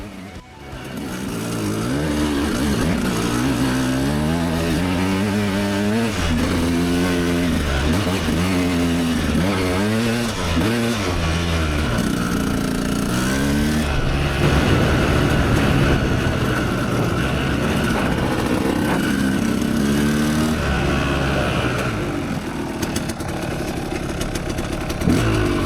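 A two-stroke KTM dirt bike being ridden through bushland revs loudly and continuously, its engine pitch climbing and falling through repeated gear changes, close to the microphone with no talk.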